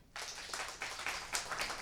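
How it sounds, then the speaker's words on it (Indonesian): An audience at a live comedy show in a jazz venue in Las Vegas claps together in a short, fairly faint burst of hand claps with uneven peaks, no talking. "Tepuk tangan sekali lagi."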